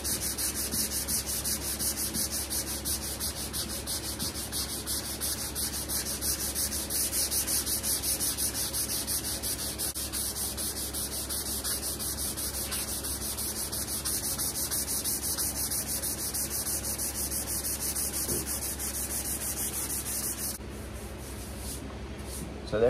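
Guide coat being sanded off a 1970 Dodge Challenger body: a long, steady, close rubbing scrape that continues unbroken for about twenty seconds and then stops near the end.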